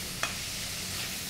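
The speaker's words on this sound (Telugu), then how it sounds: "చికెన్ వేసేసి బాగా ఫ్రై చేసుకోవాలి." Boneless chicken strips fry in a pan for a Kolkata street-style kati roll, making a soft, even sizzle with one brief click near the start, heard alone.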